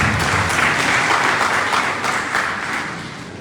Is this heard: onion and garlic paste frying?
no